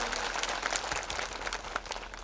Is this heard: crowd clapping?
yes